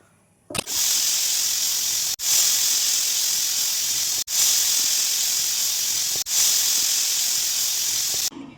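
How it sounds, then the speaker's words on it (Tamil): A pressure cooker whistles as it vents steam while sambar rice cooks, giving four loud, steady hisses of about two seconds each, with a sharp break between them and no talk. "இப்போ நம்ம குக்கரை மூடி விசில் வச்சிடலாம்."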